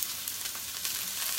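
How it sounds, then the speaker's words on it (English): Chopped vegetables sauté in a soup pot for a clear Asian-style soup, giving a steady, close, even sizzle and crackle with no talk over it. "Everything's just in there, starting to saute away."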